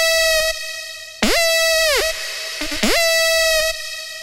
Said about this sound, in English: this trap lead. It sounds like this.